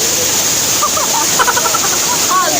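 Hinulugang Taktak waterfall in Antipolo City pours with a constant loud, hissing rush, with brief faint voices of people talking nearby mixed into the roar.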